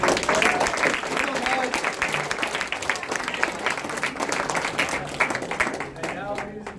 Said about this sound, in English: give a big round of applause to Thunder Bay